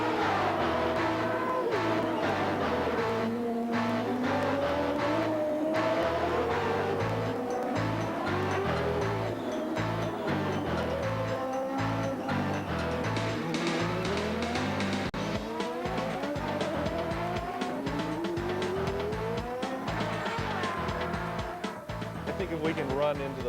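A 1993 Craftsman IndyCar runs a qualifying lap, its engine pitch sweeping up and down continuously through shifts and corners, loud and close throughout, with tire noise and a voice talking over it.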